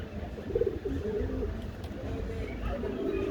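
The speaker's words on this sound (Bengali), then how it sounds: "আজকে আপনাদেরকে আমি বিভিন্ন জাতের কবুতর দেখাবো" Pigeons of several breeds coo softly nearby in low, rolling calls, with some background rustling and faint voices.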